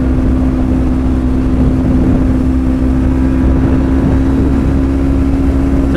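A Kawasaki Ninja 250 motorcycle engine with about 30,000 miles runs close and loud as a steady, even drone with a strong low hum, holding a constant level rather than rising and falling.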